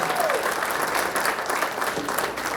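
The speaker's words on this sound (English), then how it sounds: "So if you are that proud, salute yourself, clap it up for yourself." Crowd at a veterans business event applauds, a continuous wash of clapping from many people at fairly even loudness throughout, with faint voices mixed in.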